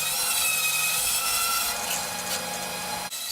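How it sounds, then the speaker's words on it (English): A bandsaw cuts out wooden pieces for a jewelry box with a steady, close, loud rasping whine, and the cut stops abruptly near the end. "I can cut them out on the bandsaw and then clean them up on the spindle sander"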